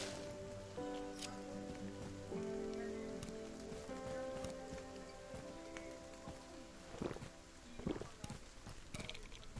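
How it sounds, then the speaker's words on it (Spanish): Acid rain falls in the Undawn video game, a steady patter of raindrops on surfaces alongside faint tonal game sounds and a few sharp clicks, with no talking. "no es lo más sano quedarse bajo la lluvia ácida"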